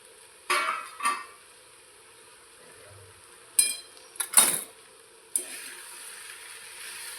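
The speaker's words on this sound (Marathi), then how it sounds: "पोहे टाकल्यानंतर आपण ते मिक्स करून घेऊया" Poha (flattened rice) being stirred in a pan, with a few separate scraping and clinking strokes of a utensil against the metal and long quiet gaps between them.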